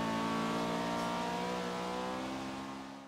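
A Honda Civic engine revs hard in Forza Horizon 3, holding a loud, steady, high-pitched roar with a dense buzzing whine that tails off at the very end.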